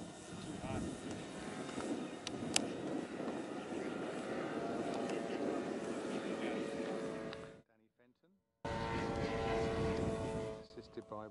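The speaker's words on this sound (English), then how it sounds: "He's done the engine start and doing the taxi." An F4B scale model aircraft's engine runs at a steady, buzzing drone while taxiing before takeoff, with a voice talking over it, a sudden brief cut to near silence, then the engine drone returning.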